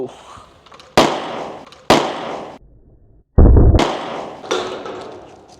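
Several sharp, loud bursts from a plastic bottle go off one after another, each a sudden crack with a ringing tail; a short pause breaks the sequence before more pops follow, inside a house.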